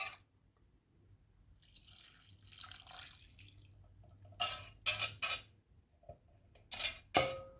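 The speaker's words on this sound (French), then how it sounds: "je vais couler sur le chocolat pour que le chocolat il fonde" Liquid poured over chocolate in a bowl to melt it for eggless chocolate mousse, faint trickling at first, then several sharp close clinks and splashes in separate bursts, with no talking.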